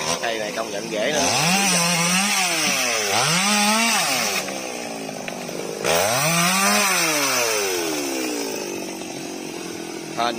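Close and loud, a chainsaw saws sections from the thick trunk of a large fig tree, the engine revving up and bogging down in repeated cutting strokes with a brief idle gap between cuts.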